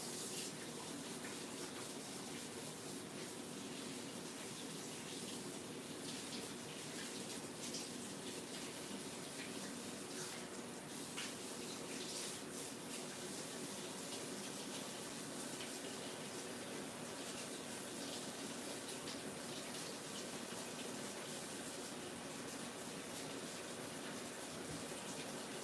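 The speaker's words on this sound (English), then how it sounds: "My water's about to boil." Water heats toward a boil, producing a steady, fairly quiet rushing hiss that holds unchanged for the whole stretch, with no voices.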